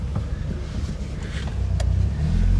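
A Volkswagen Golf Mk1 cabriolet with Group N styling pulls away, its low engine rumble rising steadily and getting louder near the microphone, with wind buffeting over the open top and no one speaking.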